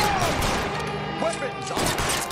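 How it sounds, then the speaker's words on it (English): Gunfire from a covering-fire exchange in the crime game L.A. Noire, a busy wash of shots through the clip with voices and game sound mixed in. "Lay down some covering fire."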